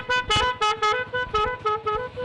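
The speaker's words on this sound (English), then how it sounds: "there is the horn" A locally assembled vehicle sounds its horn in about seven short, loud, evenly spaced toots in quick succession, close by and clear, with no talk.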